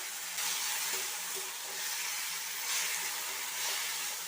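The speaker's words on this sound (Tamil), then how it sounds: "மீடியம் ஃப்ளேமில் ரெண்டு நிமிஷம் போல் வதங்கி வரட்டும்" Crushed onions, ginger, garlic and green chilli sauté over medium flame for an egg and cabbage side dish, a steady bright sizzle with gentle stirring throughout.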